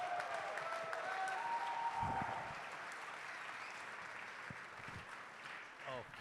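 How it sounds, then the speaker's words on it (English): An audience applauds a speaker at a boot camp event, a continuous round of clapping that swells, then eases and thins. Scattered voices and a brief whistle are heard beneath it. "Can we get a round of applause for Michael Barben"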